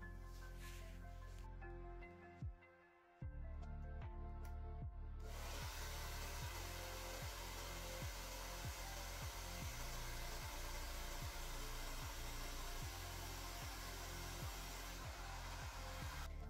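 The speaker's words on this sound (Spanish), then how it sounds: "voy a secar mi pintura acrílica con el secador de pelo" A handheld hair dryer blows on wet acrylic paint, a steady airy whoosh that starts after a brief dip near the start and runs on evenly at a fairly low level.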